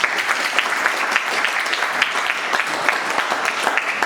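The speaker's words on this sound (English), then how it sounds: "Let's have a round of applause." Audience applause at a BirdFair wildlife panel discussion, a steady dense patter of many hands clapping throughout, fairly loud and evenly sustained with no voices on top.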